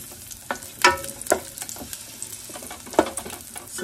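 Garlic sautéing in a pan while being stirred, with a steady low sizzle broken by sharp utensil scrapes and clicks against the pan, close and moderately loud, no voices.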